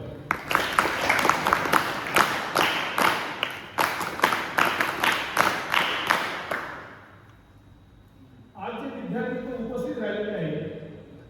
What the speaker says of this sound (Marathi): या विद्यार्थ्यांसाठी सर्वांनी टाळ्या वाजवा.